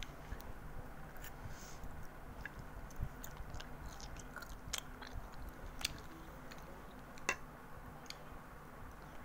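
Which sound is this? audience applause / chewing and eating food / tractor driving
chewing and eating food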